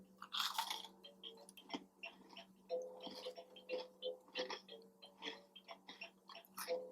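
Close, crunchy chewing of Toll House triple chocolate chip cookies, slightly overbaked, with steady bites and mastication repeating in a loose rhythm and no talking.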